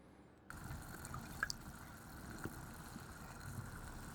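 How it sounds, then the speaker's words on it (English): Tiny bubbling and dripping of liquid in a tea-themed ASMR setting: soft, faint droplets and small pops over a low steady hum, with a brief brighter drip near the middle. "Even the bubbling sounds tiny."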